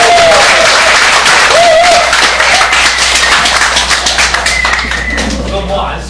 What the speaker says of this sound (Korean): 크고 뜨거운 박수로 환영해 맞이해 주시기 바랍니다